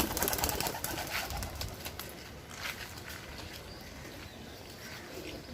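Pigeons coo nearby in a loft as birds are being released, with steady layered cooing and some fluttering and pattering movement, fading slightly after the first seconds.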